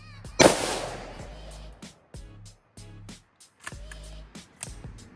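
A single loud, sharp report from an unsuppressed MK18 rifle on gas setting 2, fired with an empty magazine and one round chambered, followed by quieter mechanical clatter and faint voices.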